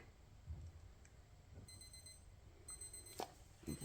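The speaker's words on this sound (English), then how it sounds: "There's my timer." A kitchen timer sounds during a resin craft session: faint, high repeated beeps in a quiet room, with a few soft knocks and clicks.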